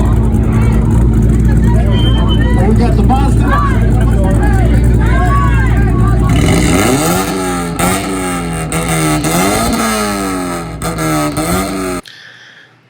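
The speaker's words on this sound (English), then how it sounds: "It's got an NC Miata trying to 2-step and a 3-valve in it." An NC Miata attempting a two-step launch limiter alongside a three-valve car, loud engine revving and popping throughout, with a shift midway into a rising, wavering exhaust drone, a voice speaking briefly over it before it cuts off.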